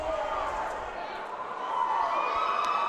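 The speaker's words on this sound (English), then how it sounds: "I think there's some cheering there" Crowd cheering at a collegiate 3D archery competition, a mid-distance swell of shouts and voices rising toward the end, mixed with nearby talk.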